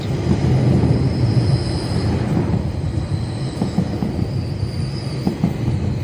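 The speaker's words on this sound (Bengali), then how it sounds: "আমরা দেখতে পাচ্ছি ট্রেন আসতেছে" A double-decker commuter train pulls into a station in Toronto, Canada, with a loud, steady rumble of wheels and rail noise, faint squealing tones and a few clicks as it rolls past.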